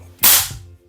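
A single sharp crack from an FX Wildcat Compact .22 caliber air rifle, a bright, close report that dies away quickly, with quiet surroundings before and after.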